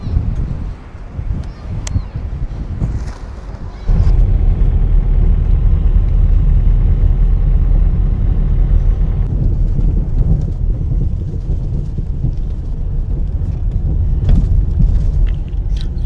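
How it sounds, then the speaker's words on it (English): Heavy rumble of many cars, trucks and vans boarding a ferry sailing from Wales, a steady loud engine drone filling the car deck, with brief talk and wind buffeting at the start before the rumble swells. "I've never seen so many cars board this ship before."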